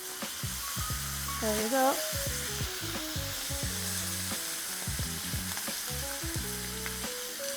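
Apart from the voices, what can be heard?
ribeye steak sizzling in a pan as it is turned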